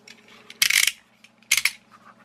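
A phone fan of silicone-like rubber is cut open, with two short, sharp crunching snips close up and quiet handling noise between them.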